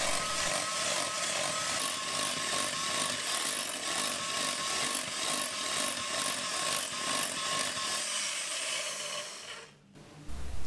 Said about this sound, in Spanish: Vamos a batir la nata, 150 gramos de nata y 10 gramos de azúcar.